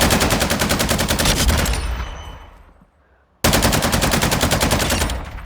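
Full-auto weapon fire in the Warzone video game: loud, rapid continuous bursts of automatic gunfire, trailing off into a brief near-silent gap before another sustained burst cuts in.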